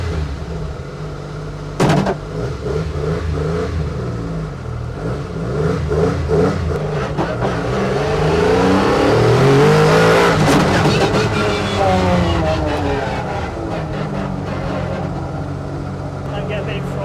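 Rally car engine revving and accelerating, rising in pitch to a loud peak around the middle before easing off, with people talking over it throughout.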